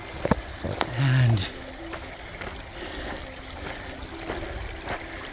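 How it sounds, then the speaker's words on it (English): A small creek flows through Fern Canyon in Redwood National Park, California, as a steady, close rushing wash, with a brief louder knock and splash early on. "Beautiful little creek along here,"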